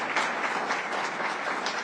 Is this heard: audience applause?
yes